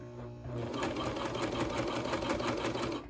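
A sewing machine runs steadily while stitching the hem of a knit dress, a close, continuous mechanical whir with rapid stitch rhythm that starts after a brief quieter moment and holds for about three seconds.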